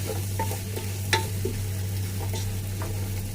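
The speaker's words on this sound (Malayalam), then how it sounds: "ഈ ബീഫിൻ്റെ കളറൊക്കെ ഒന്ന് കറുപ്പ് കളറാവുന്ന അടുത്തേക്ക് വരെ ഇതിലിട്ടിട്ട് നന്നായി വരട്ടി വേവിക്കുക" Beef masala stir-roasts in a pan, a continuous soft sizzle broken by scraping spatula strokes, heard close with a low steady hum underneath.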